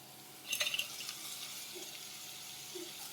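Fried cauliflower being stirred into rice in a pan, with a brief burst of scraping and clatter early on, then soft, quiet mixing noises alone.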